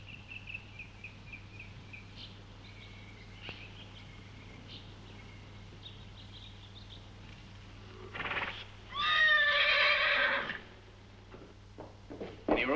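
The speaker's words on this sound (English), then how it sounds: "We'll need Alex's horse" A horse in a barn gives a loud, shrill whinny lasting about two seconds near the end of a quiet stretch, followed by a few faint thuds and shuffling sounds, in a 1957 Western film scene.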